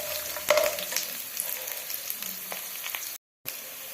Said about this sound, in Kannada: ಸ್ವಲ್ಪ ಕಡಲೆ ಆ್ಯಡ್ ಮಾಡ್ತಾ ಇದ್ದೀನಿ